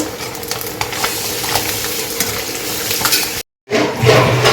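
Fish sizzles loudly in a pan of hot oil, a continuous crackling fry with scraping stirs, close up, broken by a brief sudden silence before the sizzle resumes.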